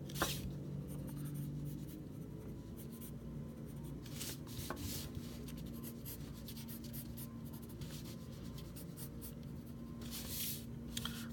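Pencil sketching a design drawing on paper: steady, close scratchy strokes and rubbing of graphite continue throughout, with short bursts of quicker hatching and no voices.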